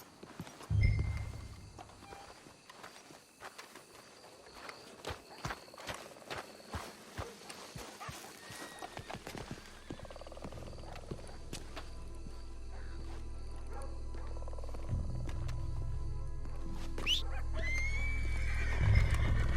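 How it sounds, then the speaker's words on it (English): Hooves clop at an uneven walking pace while a horse neighs loudly near the start in Red Dead Redemption 2, with more whinnies and a rising ambient rumble later. "Let's hitch the horses up ahead."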